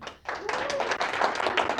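A short burst of clapping from an audience welcoming a keynote speaker, steady and fairly close, lasting under two seconds.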